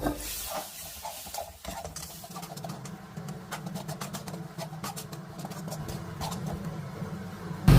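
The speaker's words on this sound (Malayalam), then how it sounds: "വീണ്ടും ഒരു പതിനഞ്ച് സെക്കൻഡ് നേരം കൂടി വഴറ്റിയെടുക്കുക" Okra curry sautéing in a pan, a continuous low sizzle broken by frequent sharp scraping clicks of a spatula, steady and close, with a brief louder knock at the end.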